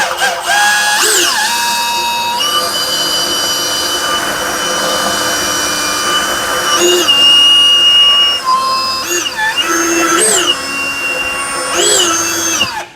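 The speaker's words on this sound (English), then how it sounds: "a drill probably can't spin fast enough anyway" A drill spinning slowly during a tire puncture repair whines continuously for the whole stretch, its pitch dipping and rising as the load changes, loud and close.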